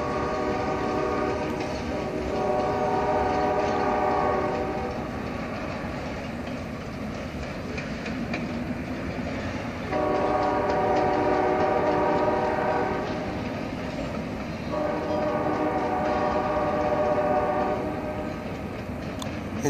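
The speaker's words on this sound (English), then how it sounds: "44 cars of freight train." A 44-car freight train on the Carolina & Piedmont line rumbles past up close with rhythmic wheel clatter, carrying two GE transformers, while its horn sounds in several long blasts over the steady roar.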